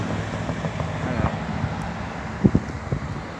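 Gusty wind buffets the microphone in low, rough rumbles, with a few sharper thumps and faint road noise behind, on a roadside stop near Villar City during a motorcycle ride.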